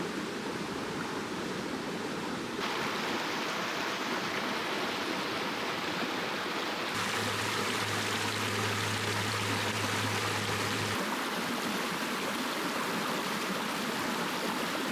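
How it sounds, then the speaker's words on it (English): A small dark river flows over mossy rocks, giving a steady, close rushing wash of water that continues without a break and swells slightly partway through, with no voices. "Small dark river, snails rest in her hand. The water flows on, polishing the mossy rock."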